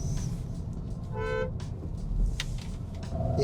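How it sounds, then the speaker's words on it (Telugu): A Kia Syros diesel gives one short nasal honk of its horn, heard over the steady hum of the car's cabin. "ఈ హార్న్ చూస్తే చాలా ఫన్నీగా ఉంది, చూసుకోవచ్చు. ఏదో క్వాక్ క్వాక్ అన్నట్టుంది."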